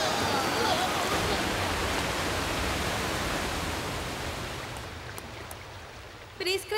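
A cartoon tap left running gushes water in a dubbed Sky Dancers episode, a broad rushing hiss that starts loud and gradually fades, before a voice briefly speaks at the end.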